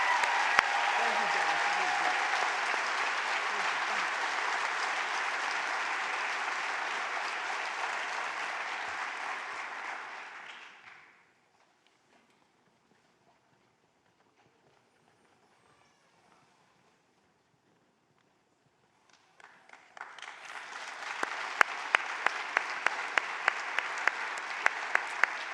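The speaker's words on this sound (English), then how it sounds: "let's give these students another round of applause as they leave the stage" A hall audience at a city's State of the City address gives students a round of applause as they leave the stage, steady clapping that fades out into near silence, then a second burst of applause swells up and continues.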